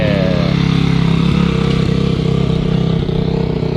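Motorcycle engines drone and rev loudly at close range as bikes ride past during an outdoor motorcycle show, a continuous layered mechanical hum with no talk.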